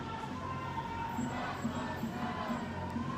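A protest crowd in Washington DC murmurs at a distance, a steady, faint wash of voices and street ambience with no single standout shout.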